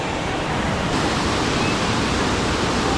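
Tanawan Falls roars as a dense, steady rush of falling water, loud and close, with no break across the whole stretch.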